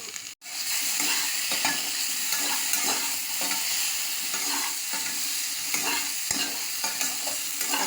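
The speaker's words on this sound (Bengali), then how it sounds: "একটু তেল আছে, এখানে এই বেগুনগুলো অল্প সবজিগুলো ভালো করে ভেজে নেব।" Potato and eggplant fry in oil while being stirred, making a loud, steady sizzle broken by repeated spatula scrapes throughout. No voices are heard.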